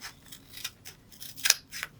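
Scissors snip through material while making festive candy holders, giving a quick series of crisp, close cuts with one louder snip near the middle, and no voices.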